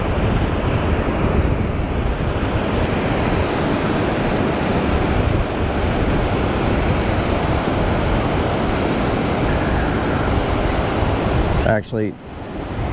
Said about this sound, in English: Starting to get a little breeze, which I was hoping to avoid.